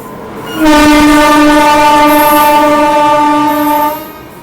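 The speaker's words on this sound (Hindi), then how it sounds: "लोकमान्य तिलक मुंबई AC सुपरफास्ट, ये हमें ओवरटेक करके जा रही है" The Lokmanya Tilak Mumbai AC Superfast express sounds a loud, sustained horn for about three and a half seconds as it overtakes close by, with faint rail clatter underneath.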